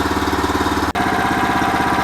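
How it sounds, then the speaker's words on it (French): A diesel engine on a Phoenix 400 mini excavator idles steadily while it warms up, close and loud with an even, throbbing rumble. One momentary dropout breaks the sound near the middle. "ça fait déjà bien plus de 5 minutes que le moteur chauffe"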